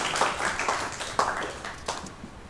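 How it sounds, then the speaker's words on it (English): Scattered applause for a student during a virtual spring orchestra concert, a few faint, uneven claps with quieter patter between them, lasting a couple of seconds. "Give him another applause."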